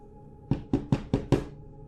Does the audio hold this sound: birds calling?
no